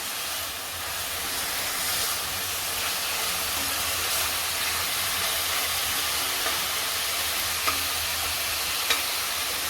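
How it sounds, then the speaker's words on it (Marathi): Onion is sautéed in a pan for a Marathi dill and moong dal dish, with a constant close sizzle and a few faint stirring scrapes and knocks, and no talk. "कांदा चांगला परतून घ्यायचा"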